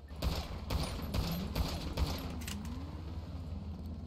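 Rapid bursts of gunfire in a gang shootout in a Grand Theft Auto–style video game, several sharp volleys over the first two seconds followed by a steady rumble of action, with no talking.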